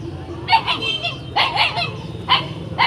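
Bac Ha dogs, a Vietnamese breed, bark loudly and close by in short bursts of two or three barks with brief gaps between them.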